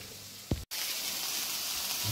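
Chopped onion fries in a pan for a seafood solyanka, a steady close sizzle and hiss broken once by a brief clatter.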